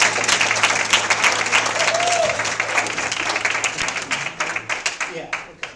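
Applause from a church congregation at a Sunday Christmas-season service follows a special music performance, steady dense clapping across the whole stretch that thins and fades near the end, with some voices mixed in.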